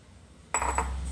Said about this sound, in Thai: เทกุ้งเต้นลงไปก่อนนะคะนี่ ใส่ลงหมดเลยค่ะ